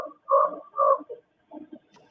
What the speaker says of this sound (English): That sounds like a frog.